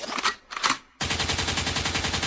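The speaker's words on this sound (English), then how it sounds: "a gunshot means forward" Rapid bursts of gunfire in a sound effect: two brief shots or volleys, a short gap, then a dense, loud, continuous machine-gun rattle that carries to the end.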